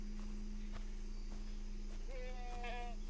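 A goat bleats once in Far Cry 3, a short wavering cry late in the clip over steady game ambience and faint footsteps.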